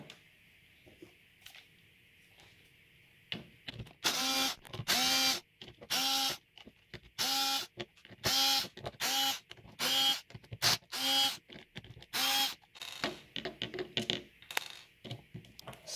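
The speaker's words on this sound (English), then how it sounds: "we're going to have to undo all of these Allen head screws and this one on the back" Allen head screws being undone on a gen9 M4A1 gel blaster, a series of close, sharp ratcheting clicks and metallic turning bursts in uneven short runs, each a second or so long, with quiet pauses between.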